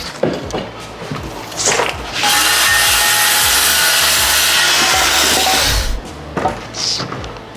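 A power driver backs a screw out of a wood stud during wall demolition: a few short taps and scrapes, then a loud, steady grinding whir for several seconds that stops abruptly, followed by light knocks.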